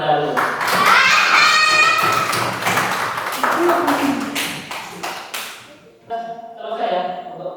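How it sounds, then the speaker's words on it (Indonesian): Classroom of students clapping together in a school lesson, a dense burst of hand claps with children's voices mixed in, fading after several seconds as a few voices continue. "Kita kasih tepuk tangan terlebih dahulu."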